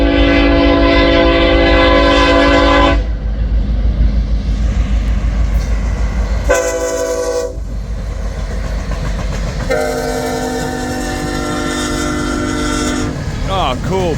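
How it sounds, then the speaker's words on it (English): Westbound empty BNSF coal train at Pacific Junction, Iowa, passing loud and close: horn blasts sounding repeatedly over the continuous rumble and clatter of rolling wagons. "This is a westbound empty coal drag."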